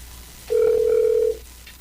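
A WhatsApp call rings out with a single steady ringback tone lasting just under a second, clear over a quiet background.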